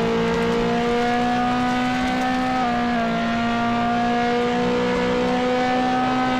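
Stallion car in Roblox Jailbreak accelerating continuously, a loud sustained engine whine with steady harmonic tones that rise slightly, dip briefly at a gear shift, then hold steady, no talking.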